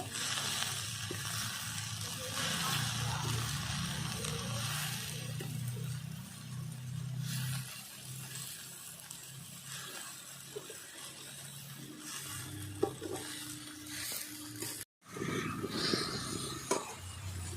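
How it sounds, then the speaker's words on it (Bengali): A large heap of lote greens is turned over in a hot pan, giving a soft, continuous sizzle with rustling and scraping from the stirring, fairly quiet and close, with a brief pause near the end. "অনেকটাই শাক আজকে ভালো করে নাড়িয়ে দেব"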